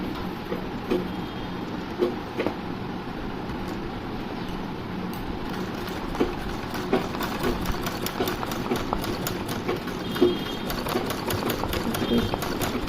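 A sewing machine stitches flower embroidery, its motor whirring steadily in a run of even stitching while someone talks over it.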